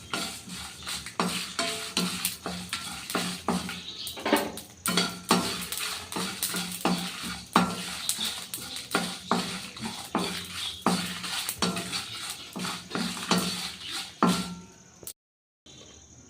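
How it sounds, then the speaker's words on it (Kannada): Cumin seeds roasting in a pan for peanut chutney powder, giving a steady dense crackle with frequent sharp ticks and scraping of a stirring utensil against the pan, close up, with no talk and a brief silence near the end. "ಸ್ವಲ್ಪ ಜೀರಿಗೆ ಚಟಪಟ ಅಂದ ತಕ್ಷಣ ಇಳಿಸ್ಕೊಂಡ್ಬಿಡೋಣ."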